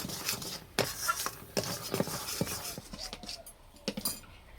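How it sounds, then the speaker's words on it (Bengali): Thick jaggery syrup cooked down for gur chola is stirred in a wok just off the heat, giving sharp scraping clinks of a spatula against metal at an irregular, close rhythm. "এইভাবে একটু নেড়ে হালকা ঠান্ডা করে নেব।"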